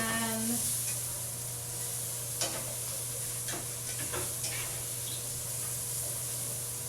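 Chicken pieces frying in a pan, a steady soft sizzle under a constant hum, with a few scraping stirs of a utensil against the pan bottom.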